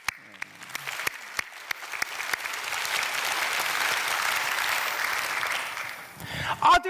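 A church congregation claps for its teachers: a few scattered claps at first, then dense, steady applause swelling and filling the room for several seconds before tapering off, with a brief voice at the very end.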